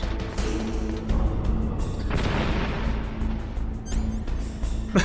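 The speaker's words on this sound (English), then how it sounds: "It's a bomb!" A bomb goes off in Metal Gear Solid, a deep booming blast with a rumbling tail over game ambience, followed by rapid clicking menu beeps near the end.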